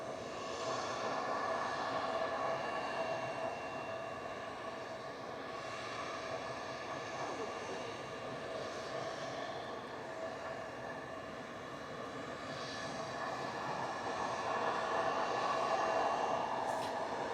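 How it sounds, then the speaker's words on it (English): A heavy jet airliner taxiing out at Manchester Airport gives a steady, continuous engine roar and whine at moderate distance, swelling slightly toward the end, with no voices. "there's a heavy taxiing out now, just crossing T3 right"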